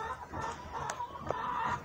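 Backyard laying hens clucking on a small organic homestead, a few soft, brief clucks and squawks scattered over quiet farmyard background, fairly faint and without talk.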